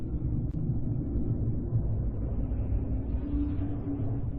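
Sonified recording of Mars renders a steady, dense low rumble with a broad midrange wash, continuous and fairly loud throughout, with one faint brief click near the start and no voices.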